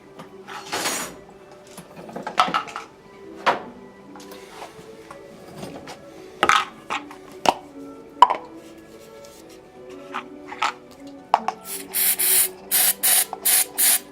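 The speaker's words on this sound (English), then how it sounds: "You can buy nasty stuff in a spray can." Handling clinks and taps lead into a run of short, forceful sprays from an aerosol can of flux remover, bursts repeating in quick succession near the end.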